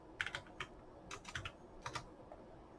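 Key taps on a computer keyboard while entering mileage figures into a travel worksheet, a few quick clicks in short irregular bursts, close and quiet against a faint background.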